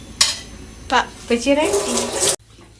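Water is poured into a cooking pot for sambar in a brief splashing run of about two seconds, closely miked, with a voice speaking over it.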